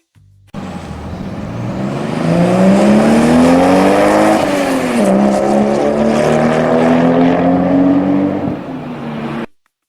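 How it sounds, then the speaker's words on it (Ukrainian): A car engine revs and roars steadily nearby, pitch rising and falling slightly, then cuts off abruptly. "Так, автомобіль."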